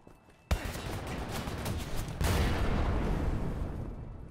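A frag grenade in Wolfenstein The New Order goes off with a sudden loud blast, followed by sustained rumbling and crackling debris, then a second heavier surge that slowly fades.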